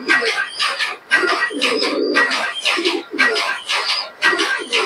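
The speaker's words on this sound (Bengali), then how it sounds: "এটা হচ্ছে মাদিন কবুতর" A female pigeon coos close by in loud, repeated rolling phrases separated by short pauses, continuing throughout.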